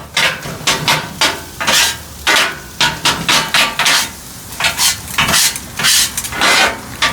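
Kothu roti chopped on a hot griddle: rapid, loud metallic blade clanks in irregular bursts over a steady sizzle, close and continuous with no talk.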